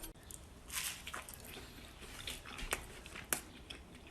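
Crisp bites and crunches into a pressed, griddled cheese sandwich, a few short crackly bursts close to the mic in a quiet room.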